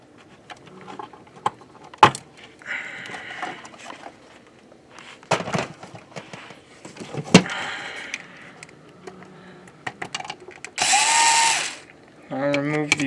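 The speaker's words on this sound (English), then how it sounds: "I'll remove the 4 smaller screws, not the 4 big ones." Screws being removed from an Xbox One S hard drive: intermittent clicks, ratcheting taps and small metallic handling noises, with a brief whirring power-tool burst near the end, close and fairly loud.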